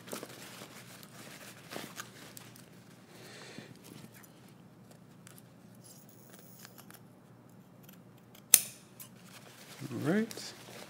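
Scissors snip fabric at the corner of a jumpsuit being sewn, a few quiet, sparse cuts spaced apart in a calm room, with one sharp louder click and some rustling near the end.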